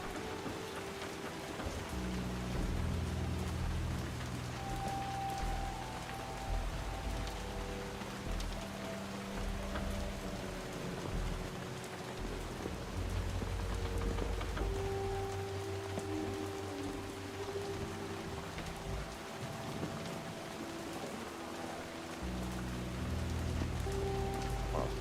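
Steady rain pours down in a video game, with a low rumble underneath, a constant wash of drops that never lets up across the whole stretch.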